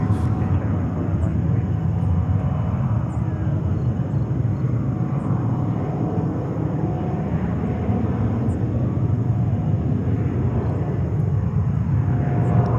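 An airliner at JFK airport in New York, an Iraqi Airways jet, gives a steady, loud broadband engine roar that holds evenly throughout, with no talk over it.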